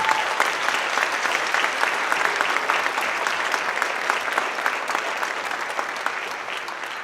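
An audience at a school board meeting applauds high school wrestlers, with loud, sustained clapping from a roomful of people that fades slightly toward the end.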